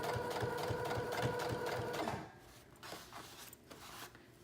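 Sewing machine stitching a denim skirt near the zipper, a fast rhythmic mechanical chatter that runs for about two seconds, then stops, leaving faint handling noises.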